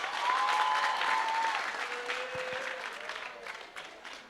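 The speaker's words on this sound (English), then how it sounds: "let's give him a big round of applause" Audience applause at a weekend academy orientation ceremony, a dense wash of clapping that is loud at first and gradually fades over about four seconds, with faint tonal sounds underneath.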